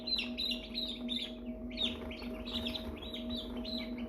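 American Bresse baby chicks cheep constantly in a crowded brooder, a dense chorus of high, overlapping peeps close by over a steady low hum of equipment.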